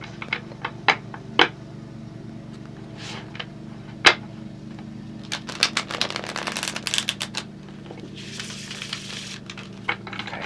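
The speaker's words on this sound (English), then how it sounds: "Nope, one more shuffle." A deck of tarot cards is shuffled by hand, giving scattered sharp taps and clicks followed by a dense burst of riffling flutter, then a softer rustle, all alone without speech.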